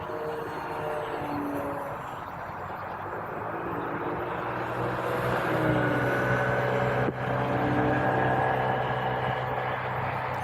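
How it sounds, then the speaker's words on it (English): An E-Flite Trojan T-28 RC airplane is flying with a slightly imbalanced prop or prop adapter, giving a steady, droning propeller roar outdoors. It holds at an even level and swells a little toward the end, with no voices. "I do have a bit of a imbalance in the prop or prop adapter, so that's why it's actually roaring a bit"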